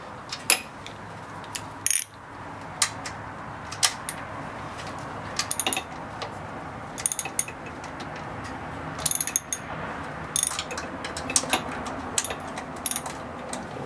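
A ratchet turning a 16mm socket loosens an alternator bolt on a BMW 3-Series: short bursts of close, crisp clicking separated by pauses, with no talking.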